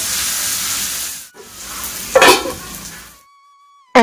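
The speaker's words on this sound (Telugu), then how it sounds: "ఇక్కడ నేను బీరకాయ పచ్చడికి తాలింపు పెడుతున్నా" Spices tempering in hot oil for ridge gourd chutney in a home kitchen, a continuous sizzling hiss with a brief burst of crackling and stirring, then near silence and a short clink at the end.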